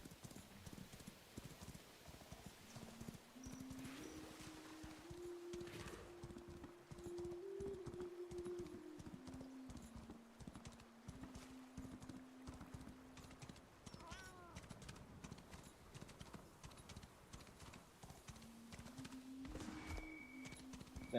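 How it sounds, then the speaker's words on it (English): Steady clip-clop of horse hooves in the video game Where Winds Meet, a continuous rhythmic trot running throughout with a few whinny-like tones and faint background game sound. "never in my life would I think I'd be playing as a horse in a video game."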